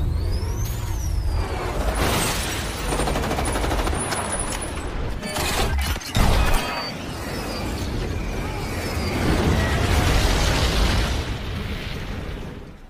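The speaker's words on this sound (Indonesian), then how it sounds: "hingga pesawatnya pun oleng dan akan meledak" Loud, chaotic crashing and bursting roar from a plane exploding, with repeated blasts, a sharp jolt midway, and a swelling rumble afterward.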